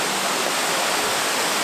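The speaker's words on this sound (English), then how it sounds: "look at the size on this waterfall" A large waterfall at Lydford Gorge roars as a steady, dense rush of falling water, loud and close with no breaks.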